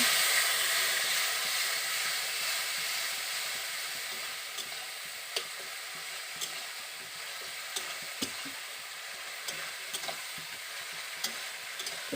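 Soybean curry masala sizzles steadily in a pan after water is added, a continuous close hiss with occasional soft scrapes of stirring.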